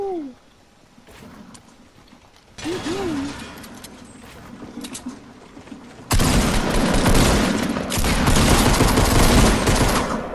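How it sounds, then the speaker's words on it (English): Gunfire in the video game Fortnite arrives as dense, loud bursts of rapid shots, first in a short stretch and then a long sustained barrage, with a voice briefly heard at the start. "Where are you getting shot at?"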